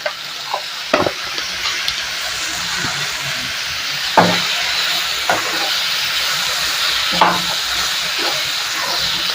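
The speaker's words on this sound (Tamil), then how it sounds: "உப்பு சேர்த்து நல்லா வதக்கி விட்டுக்கலாம்" Vegetables for a chutney sauté with salt in a pan, a loud continuous sizzle broken by sharp stirring scrapes every couple of seconds, close up with no talking.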